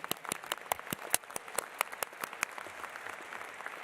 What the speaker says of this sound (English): I would like us all to applaud them.